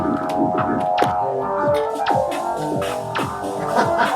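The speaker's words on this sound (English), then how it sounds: "I've got a cheap drum machine here." A cheap chip-based drum machine in a modular synthesizer setup taps out a pseudo percussion pattern, quick pitched electronic hits falling in a rapid repeating rhythm, loud and up front with no talking.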